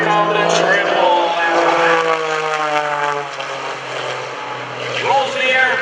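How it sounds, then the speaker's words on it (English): A propeller aerobatic airplane at an airshow roars loudly overhead performing snap rolls, its engine pitch rising and falling as it maneuvers, with a voice faintly audible underneath. "Rolls the airplane to the right, brakes left."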